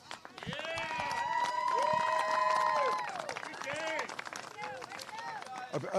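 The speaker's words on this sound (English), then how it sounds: "give everyone a round of applause, all these players" Rugby players at a men's 15s national championship match are applauded by a crowd, with clapping and whooping cheers swelling over several seconds and then tapering, voices shouting throughout.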